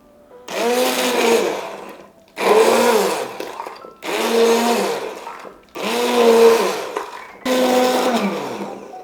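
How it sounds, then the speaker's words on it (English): An immersion stick blender purees cooked refried beans in five loud, steady bursts of whirring, each lasting over a second with brief pauses between, no talking. "I'm just gonna use this stick blender and blend it until it reaches the kind of texture that you want"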